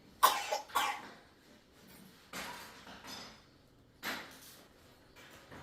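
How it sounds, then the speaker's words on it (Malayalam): A child coughs indoors in several sharp, close bursts: two quick coughs at the start, another around the middle and one more later, with quiet stretches between them. "ചുമക്കി."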